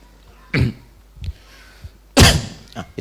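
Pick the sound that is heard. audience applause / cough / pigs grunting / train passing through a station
cough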